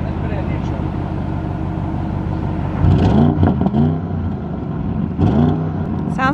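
An Audi RS6 Performance engine idles in neutral with a steady rumble, then revs sharply twice, the pitch climbing and falling back each time, close and loud.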